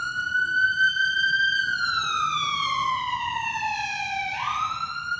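A single siren wails loudly, its tone sliding slowly downward then jumping back up, over a faint background rumble.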